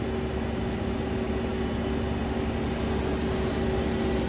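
A 1995 Mazak SQT15MS CNC lathe spindle spins at steady high speed, giving a smooth, continuous whine with a broad airy hiss and faint tonal hum, loud and close, with no voices.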